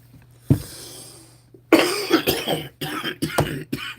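A harsh cough bursts out, followed by a fit of several rough, rasping coughs and throat clearing, close and loud.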